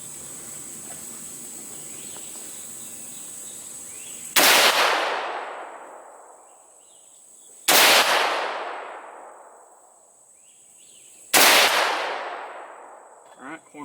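Three loud rifle shots from a PSA 223 Wylde firing Federal Fusion ammunition at an outdoor range, each a sharp crack spaced several seconds apart with a long echoing decay, over steady insect buzz.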